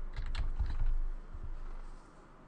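Quick, light keystrokes on a computer keyboard: a short burst of soft typing clicks close by, then a brief pause and a couple more taps, quiet and with no voices.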